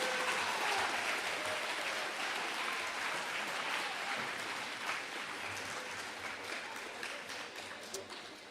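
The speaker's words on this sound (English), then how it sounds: "let's give all of our 7th and 8th grade a big round of applause" An audience at a middle school awards ceremony applauds its seventh and eighth grade award winners with steady, full clapping that slowly fades toward the end, with faint crowd murmur underneath.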